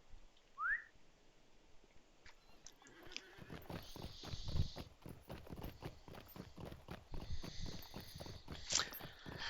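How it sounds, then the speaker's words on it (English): Horse hooves clip-clopping at a steady rhythm in the Lord of the Rings Online video game, a mount trotting along with regular close, fairly loud beats and a brief whistle near the start, game ambience underneath. "I really like being able to use my horse and my various mounts at an early level."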